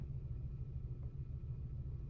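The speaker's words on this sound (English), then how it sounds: "So we're idling, parked." A 2024 Toyota Tacoma SR pickup truck engine idles while parked, a low, steady rumble, quiet and even throughout, with no revving or other sounds.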